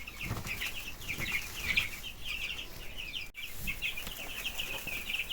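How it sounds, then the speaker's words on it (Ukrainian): Chickens chirp and cluck in soft, rapid bursts, with faint fluttering wings and rustling in a quiet coop. "Ось вже як літають наші пташки тут."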